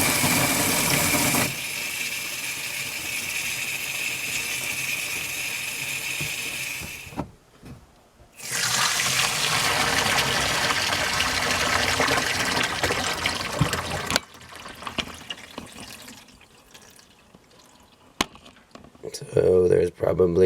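Water drains from a boiler expansion tank during a replacement, giving a steady rushing gush that breaks off briefly and then returns, with people talking over it now and then.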